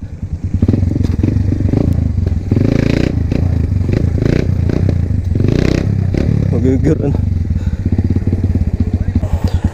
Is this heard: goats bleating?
no